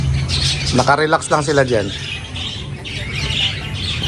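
Lovebirds in an aviary squawking and chirping with repeated harsh calls, while someone talks close by over them.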